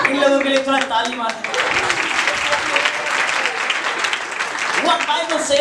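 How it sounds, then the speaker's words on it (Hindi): Church congregation at a Sunday service applauds, dense clapping swelling in after someone speaks and continuing steadily, with voices heard at the start and end. "इन लोगों के लिए थोड़ा ताली मार।"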